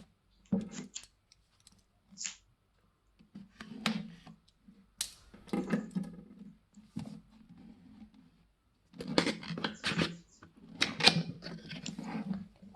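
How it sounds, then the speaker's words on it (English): Protective tape peeled off DJI Osmo 3 packaging, with close, quiet, scattered crackles and sticky tearing bursts separated by near-silent gaps. "Now I'm going to peel off the protective tape."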